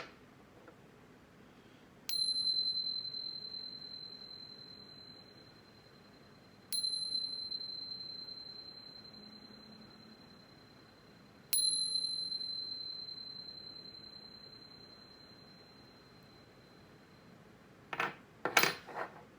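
Three evenly spaced chime strikes ring out clearly, each a bright metallic tone with a long, slowly fading ring. A short burst of clattering follows at the end.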